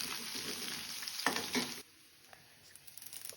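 Crushed green chilli and garlic hitting hot masala oil with cumin seeds, a dense close sizzle with stirring scrapes that suddenly drops to a quieter, fainter crackle partway through.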